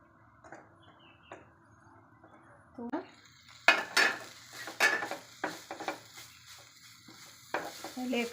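A utensil scrapes and clinks against a pan while pumpkin-leaf thoran is stirred, producing irregular close metallic knocks and scrapes with a soft sizzle underneath.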